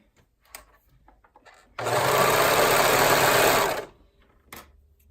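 A serger sewing machine runs in one steady, loud burst of stitching for about two seconds, with quiet handling sounds before and after.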